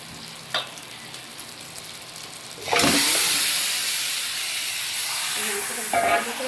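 Vinegar-marinated chicken leg pieces dropped into hot oiled spice masala for biryani, a sudden loud burst of sizzling that settles into a steady hiss, with light clinks and scrapes before and after.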